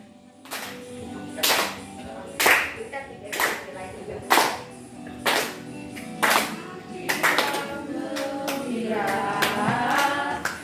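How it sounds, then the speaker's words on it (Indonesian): Sharp hand claps strike roughly once a second, keeping time with a group singing a lively song in a school class, voices carrying the tune between and under the beats. "sambil tepuk tangan."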